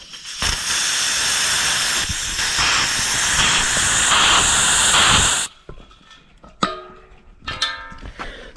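Propane hissing hard out of a tank's bleed valve through the dip tube on a teardrop trailer's system, a loud steady spray for about five seconds that cuts off abruptly, followed by a few faint clicks and rattles.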